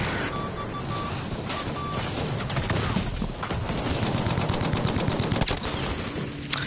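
Bren light machine gun firing in Battlefield V, in rapid bursts of automatic fire with sharp crackling reports over busy battlefield noise, loud and close.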